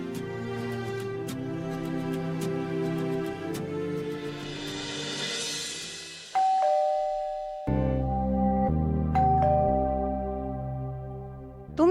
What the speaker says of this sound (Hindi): लोगों को घंटी सुनाई नहीं दे रही है?